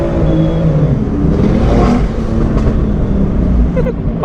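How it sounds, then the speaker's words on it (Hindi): Car exhaust revving hard in busy traffic, a loud, close engine roar rising and falling with faint crackling bursts, under a brief voice. "तो गाइस अब सुनो थोड़े से पॉप एंड बैंग।"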